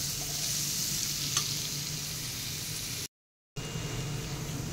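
Onions sautéing in a pan for a ridge gourd curry, a steady close sizzle with stirring running throughout, briefly cut off near the end before resuming.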